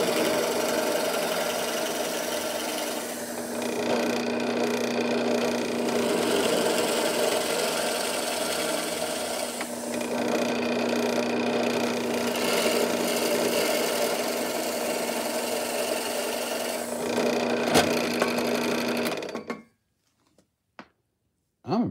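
Parkside cordless screwdriver (PASD 4 B2) spinning a 10 mm plug cutter into wood, a steady whirring drive running nearly continuously and fairly loud for about twenty seconds before stopping.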